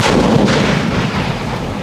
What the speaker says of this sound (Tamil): நம்மளோட மேஜிக் கிறிஸ்டல் எப்படி வெடிச்சுது